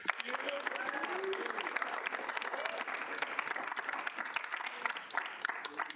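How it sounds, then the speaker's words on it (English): A student senate meeting gives a round of applause for its elections committee, fairly quiet, steady clapping from a modest group of people, with faint voices mixed in. "If we can get a round of applause"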